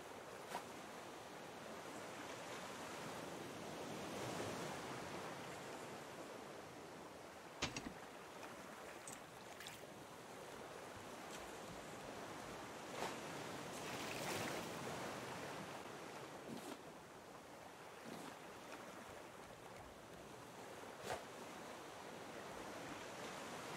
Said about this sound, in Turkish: biraz dalgalı oluyor deniz.